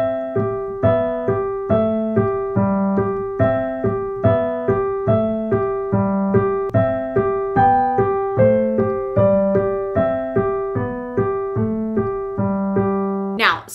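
An easy Christmas song played on piano with both hands, a steady melody over regular left-hand notes, clear and close with no talking.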